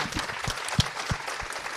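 Audience applause at a startup founders' event, a short burst of steady clapping with a few louder claps standing out, fairly quiet and without talk.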